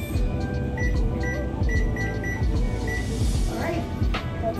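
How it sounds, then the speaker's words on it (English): Microwave oven heating riced cauliflower, a steady low hum and whir with a few brief tones and some kitchen clatter. "So next I'm just heating up these rice cauliflower in the microwave for 3 to 4 minutes."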